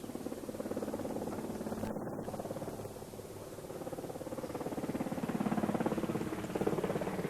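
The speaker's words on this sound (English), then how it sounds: "Bringing the Colonel-in-Chief to the parade today is a helicopter from the Royal Flight." A Royal Flight helicopter arrives at a military parade, making a loud, steady rotor thrum with a broad whooshing whine that swells slightly toward the end, with no talking.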